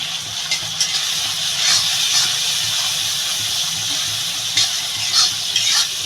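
Spices with Kashmiri chili powder fry in hot oil for dal, giving a steady loud sizzle with occasional stirring scrapes and spits throughout.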